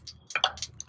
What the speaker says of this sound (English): add a little bit of mustard seeds. This splatter